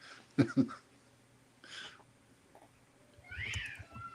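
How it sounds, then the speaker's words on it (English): A cat meows outdoors, heard faintly at a distance in a few short calls, with a longer, louder rising cry near the end. "There's a cat outside"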